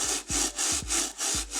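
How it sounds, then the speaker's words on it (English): Brass bristle brush scrubbing the sole of a sneaker in quick back-and-forth strokes, close and loud, with about five rasping swipes in under two seconds. "I bought a separate brass brush that I'll use for the bottom first"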